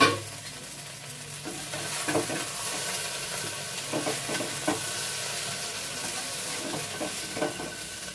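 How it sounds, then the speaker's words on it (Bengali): Eggplant pieces frying in oil in a wok, with a steady sizzle and faint stirring scrapes at intervals and no voices. "দু তিন মিনিট ভেজে নেওয়ার পর আমি বেগুনগুলো তুলে নেব"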